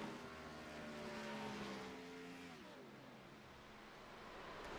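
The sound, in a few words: Camaro race car engine clutching, sim racing game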